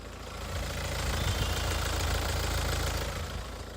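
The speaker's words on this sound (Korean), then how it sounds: "그럼 바로 영상으로 엔진 소음 한번 담아보도록 하겠습니다." A 2017 Hyundai Santa Fe with a 2.0 engine idles outdoors, giving a steady, even low rumble with a fine regular ticking, recorded close by with no voices.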